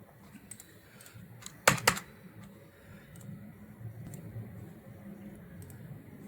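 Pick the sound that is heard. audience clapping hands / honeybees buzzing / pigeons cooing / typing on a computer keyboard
typing on a computer keyboard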